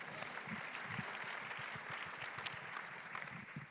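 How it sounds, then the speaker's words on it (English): An audience at a women-in-leadership talk event applauds, a soft, steady wash of clapping heard from a distance and holding evenly throughout. "A round of applause for that."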